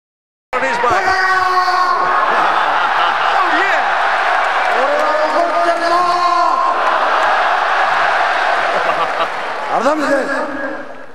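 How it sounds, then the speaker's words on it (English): A packed arena crowd roars for Antonio Inoki at Pride Shockwave 2002, a loud, sustained wall of cheers and shouts with rising whoops that swell again near the end. "Listen to this crowd"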